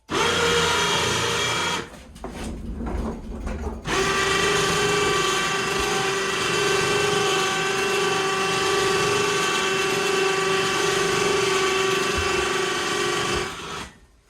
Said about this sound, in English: I still use my handy dandy ceiling mounted winch